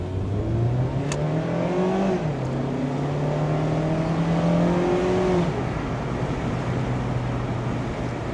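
A Mazda Miata sports car engine accelerates while driving, its steady whirring drone climbing in pitch, dipping briefly at a gear change, then rising again before settling, heard close and continuous with no voices.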